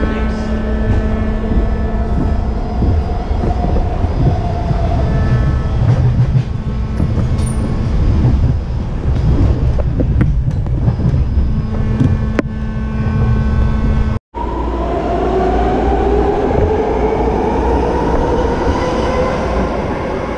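Steady rumble and rattle of a BART subway train in motion near San Bruno, loud and continuous, with a brief cutout before a rising whine as the car speeds up.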